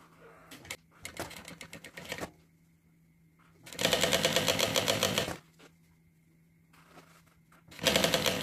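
A sewing machine stitches a seam where a zipper meets the main lining, running in bursts of steady rapid chatter, two long loud runs and shorter ones, with quiet pauses between.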